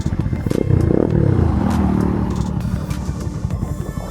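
A Bajaj Pulsar NS200 motorcycle fitted with an Akrapovic exhaust and dB killer revs up close by, giving a deep, loud, rising engine roar that settles into a rough, burbling idle.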